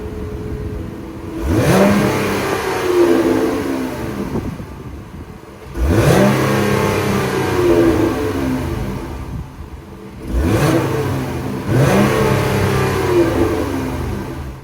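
A 2025 Ram 1500 Big Horn 4x4 pickup with the 3.6 liter Pentastar V6 revving loudly close by, three sharp throttle blips rising and falling in pitch, each followed by a steady idle, with no talking.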